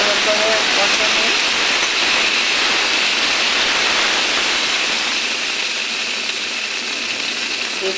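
Green chilli paste and ginger sautéing in a pan give a steady, bright hiss that fades slightly toward the end, with faint talk at the start.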